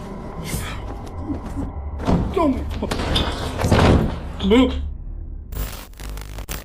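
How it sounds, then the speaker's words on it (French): A door swings shut on its own in a dark house, giving a heavy slam and thump amid shuffling noises and a voice. "cette porte qui se ferme toute seule dans l'obscurité"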